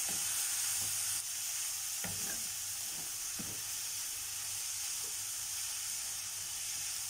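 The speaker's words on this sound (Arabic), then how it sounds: "هنبتدي بقى نشوح البصل بتاعنا ده." Onions sautéing over high heat in a pan without oil for eggplant, a steady sizzle with a few stirring scrapes, close and continuous, with no talking.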